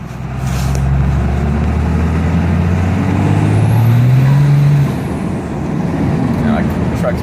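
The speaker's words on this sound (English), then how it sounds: "The truck's breaking loose in third now, it's just accelerating." A truck fitted with an HE351VE turbo accelerates hard in third gear, its engine roaring loud and close with rising pitch and a faint turbo whine, while someone speaks over it.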